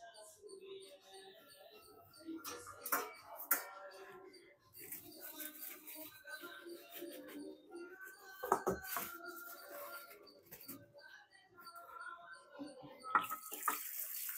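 Dishes are washed in a sink under running tap water, with intermittent splashing, pouring and the clatter of pots and plates at close range.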